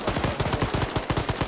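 A rapid volley of gunshots in a competitive video game match, ending in a headshot kill, with tightly spaced loud shots over a brief moment, no talking.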